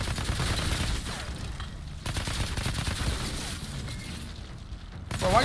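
Gunfire in the video game Outriders crackles in a dense, continuous fusillade of overlapping shots with booming impacts, moderately loud throughout.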